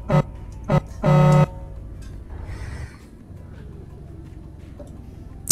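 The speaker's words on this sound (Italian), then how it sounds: "E faccio una bella suonata di clacson in tuo onore." A vehicle horn in a truck-driving video game sounds two short toots and then one longer blast over a low engine hum, followed by quieter driving noise and a final toot.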